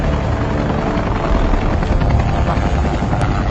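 Helicopter in a film, its rotor chopping in a loud, steady roar with a dense rhythmic thump throughout.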